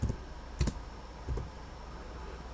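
A few separate keystrokes on a computer keyboard as a short command goes in, sparse clicks with gaps between them, close over a quiet background.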